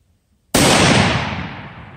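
A single Savage TPH rifle in .243 Winchester fires one loud shot outdoors. The sharp, sudden crack breaks a quiet moment and rolls off in a long fading echo.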